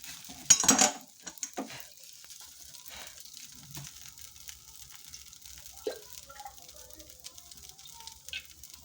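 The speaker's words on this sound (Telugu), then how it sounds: "బీరకాయ చట్నీ తాలింపు వేసేసుకుంటున్నానండి." Oil heating in a small pan for tempering ridge gourd chutney gives a brief burst of crackling sizzle near the start, then quieter stirring clinks and soft pan sounds, close by and without speech.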